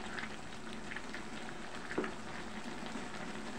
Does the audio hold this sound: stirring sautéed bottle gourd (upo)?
yes